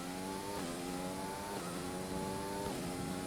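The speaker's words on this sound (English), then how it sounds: "These cars really do sound like they're so new." Race cars in a racing video game at Monza, Italy, hold a continuous loud engine drone, with the pitch stepping down on three gear shifts, and no talk over it.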